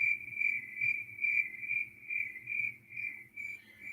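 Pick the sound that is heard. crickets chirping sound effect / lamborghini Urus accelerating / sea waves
crickets chirping sound effect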